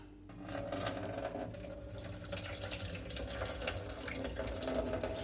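Steady running water pours and splashes into a sink as water is drained from soaked brown rice, a continuous wash of noise at moderate level with no voices.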